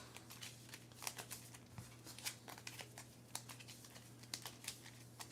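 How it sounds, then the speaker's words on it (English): Quick, crisp riffling and clicking of Earthborne Rangers game cards being shuffled into a deck, soft and close, in irregular bursts. "Shuffle them into the path deck"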